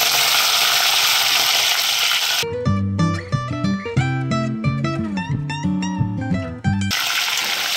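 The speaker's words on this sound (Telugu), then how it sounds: "ముందుగా నూనెలో ఇది నార్మల్గా ఫ్రై చేసుకుంటాం" Korramenu fish fry in hot oil with a steady, loud crackling sizzle that cuts away to a stretch of music before the frying noise returns.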